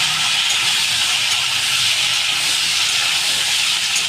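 Drumstick pieces, potato and taro hit hot oil in a wok, setting off a strong, continuous hiss that holds at an even level from start to finish.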